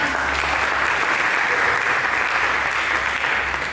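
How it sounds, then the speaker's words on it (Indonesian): A church congregation at a worship service breaks into loud, sustained applause, a thick, even roar of clapping hands that fills the whole stretch with no speech on top. "Mari kita sambut dengan tepuk tangan"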